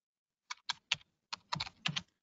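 Typing on a computer keyboard to enter an AI image prompt, heard up close: six or seven crisp key clicks in two quick bursts separated by a short pause, all in near silence.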